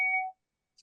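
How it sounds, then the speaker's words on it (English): Electronic timekeeping chime in a talk or interview setting: one short two-tone beep, sharp and clear, cut off after a moment and followed by silence and a tiny faint blip. "It's not a fire alarm, it's a chime."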